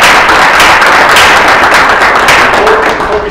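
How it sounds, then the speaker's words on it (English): A forum audience at a National Bar Association event applauds a speaker, giving loud, dense, sustained clapping that fills the whole stretch and tapers slightly at the end. "Let's give him a big round of applause"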